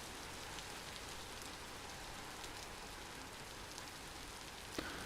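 Rain falling in the video game Vintage Story, a soft, even hiss of steady rainfall that runs throughout at low volume, with one faint tick near the end and no talking.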